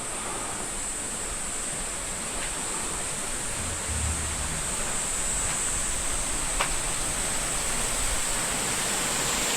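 Water rushing through channels in the village of Tsumago, a constant close hiss of flowing water with no pauses, steady in level and joined by a brief low thump near the middle.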